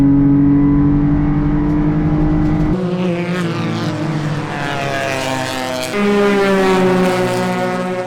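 Loud engine drones pass close by one after another, their pitch shifting as each vehicle goes past on the road.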